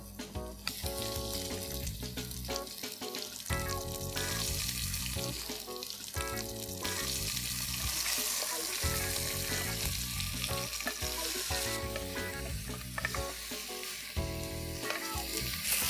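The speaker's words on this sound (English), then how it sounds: "I'm going to add the mutton and just let it sear and release its juices into the hot oil" Mutton sears in very hot oil for mutton do pyaza, a continuous bright sizzle running throughout beneath prominent background music.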